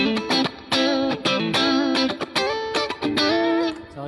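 Distorted electric guitar through an effects pedal plays a run of chords, some ringing and some chopped short, close and loud with no talking.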